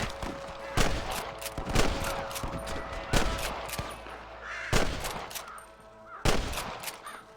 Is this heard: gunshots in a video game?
yes